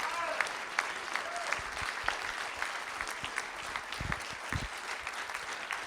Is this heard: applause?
yes